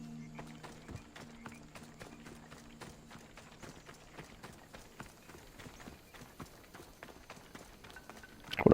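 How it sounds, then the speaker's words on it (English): Hooves clip-clop in a quick gallop from a horse in the video game Assassin's Creed Odyssey. The beat is steady and fairly faint over low ambience, and a louder burst comes at the very end. "What a nice horse. He waited for me."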